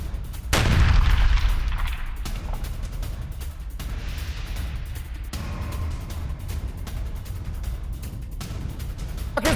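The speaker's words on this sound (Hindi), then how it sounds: "पाकिस्तान के सैन्य काफिले पर आईडी धमाका" An IED blast hits a Pakistani military convoy in Waziristan: one heavy, booming detonation with a deep low rumble, followed by crackling debris and scattered sharp pops over a noisy background.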